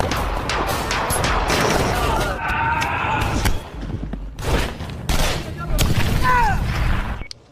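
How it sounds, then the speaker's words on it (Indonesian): Gunfire in a film shootout that breaks out after a stakeout is discovered by the enemy: dense, loud bursts and sharp cracks come in waves throughout, mixed with crashes and shouting voices. "sehingga terjadilah baku tembak"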